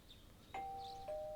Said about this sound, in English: Oh, someone did ring a doorbell.